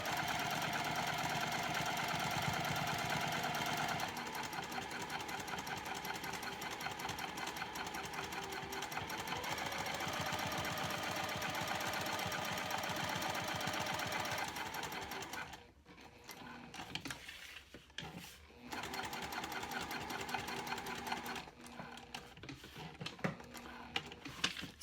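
A sewing machine stitches a cork clutch wallet with a steady, close whir that runs unbroken, then stops and restarts in short spurts near the end.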